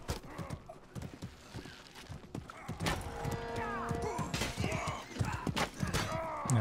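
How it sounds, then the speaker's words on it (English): Hooves clip-clop and a horse snorts and whinnies in the Mordhau video game, mixed with in-game clatter and other animal-like calls, the steps coming in an uneven rhythm with voices occasionally underneath. "I hear a horse."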